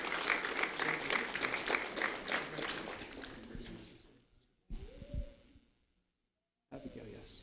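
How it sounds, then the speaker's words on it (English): Audience at a public recognition ceremony clapping for two honorees, a few seconds of moderate applause that thins out and fades, followed by a brief hooting sound and a muffled noise before it falls silent. "a round of applause for them."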